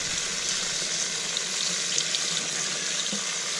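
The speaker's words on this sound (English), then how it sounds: "And we'll rinse this all up. Get the blood out of it." A steady, hissing stream of tap water runs over squirrel meat as it is rinsed to wash out the blood, a constant close splashing rush with no talking.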